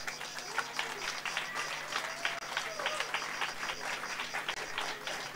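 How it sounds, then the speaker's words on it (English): Audience applause at a jazz drum camp finale in Croatia, a sustained crowd of many hands clapping steadily and fairly close, with some voices mixed in. "Please, big round of applause"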